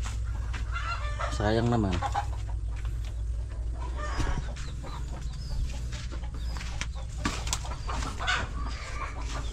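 Chickens clucking near a bahay kubo where chicks have just hatched, with a clear rising call early on and scattered close clucks and peeps over steady background noise, and a person briefly speaking.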